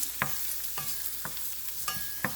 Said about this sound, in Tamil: வெங்காயம் செத்தல் மிளகாய் கருவேப்பமிலை எல்லாம் நல்லா வதங்கட்டும்